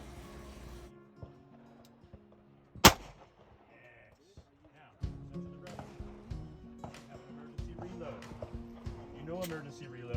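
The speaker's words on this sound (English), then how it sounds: "1 shots in the chest and 1 shot to the head." A handgun fired during a tactical shooting class drill on multiple targets: one sharp, loud crack stands out early, with a person talking and handling noise around it.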